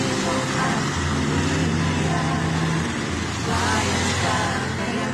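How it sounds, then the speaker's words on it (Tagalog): Steady roadside traffic beside a tree-lined highway in Palawan, with vehicles rumbling and swishing past continuously, near and loud, their engine drone swelling and easing, with someone talking over it. "Yung mga sasakyan dito mga idol o."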